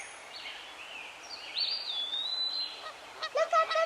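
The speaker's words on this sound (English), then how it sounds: "Not the birds, the swans." Swans in a London park give a series of soft nasal honks, rising into a cluster of louder, closer calls near the end over quiet outdoor background.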